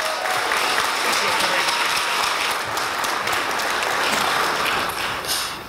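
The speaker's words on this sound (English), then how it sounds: "Let's give him a huge round of applause." Sustained audience applause at a startup pitch competition, steady and full, a crowd clapping continuously from start to finish before fading slightly at the end.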